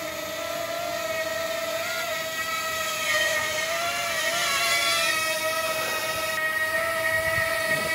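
A Wingsland S6 GPS 4K camera drone in flight gives off a steady high-pitched whine of spinning rotors, with a wavering tone that makes an odd, shifting noise partway through, heard alone and fairly loud throughout.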